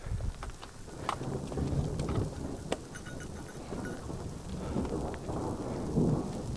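A mountain thunderstorm on Mount Aragats in Armenia, with low rolling thunder under a constant wash of rain and wind and scattered sharp raindrop ticks, distant and fairly faint with no talk.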